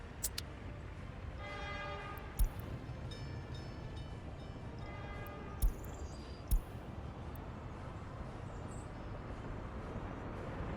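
Trains in the video game Workers and Resources rumble along as a steady mechanical drone, with two short horn blasts and a few sharp clanks over the continuous noise.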